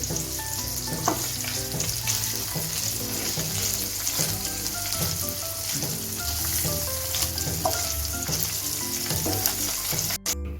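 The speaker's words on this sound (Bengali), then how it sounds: "এখন আমি পনিরগুলো ভেজে নিব হালকা গোল্ডেন করে" Paneer sizzles steadily in hot oil, a continuous crackling fry with occasional pops and stirring taps.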